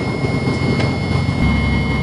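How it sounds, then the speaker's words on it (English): An airplane takes off on a runway, heard from inside the cabin as a steady engine roar with a whining tone. The low rumble swells heavier toward the end. "Another plane just came in and now we're taking off."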